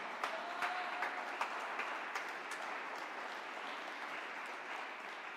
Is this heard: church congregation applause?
yes